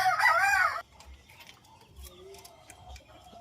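A winning gamecock crows once loudly and close at the start, then soft clucks and faint farmyard sounds follow.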